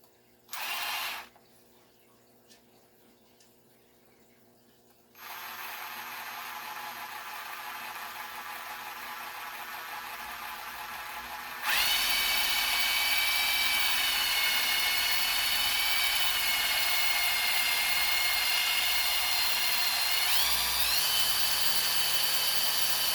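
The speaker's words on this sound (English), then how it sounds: "you will use your drill and just screw it on." A loud, steady drill whine driving self-tapping screws into a metal fence gate, preceded by a quieter stretch with a brief bump, with pitch shifting slightly near the end.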